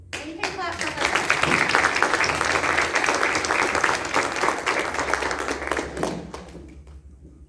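An audience at a Madison County school board meeting claps steadily for the new student representative, a dense, sustained round of applause lasting several seconds before tapering off, with voices talking underneath.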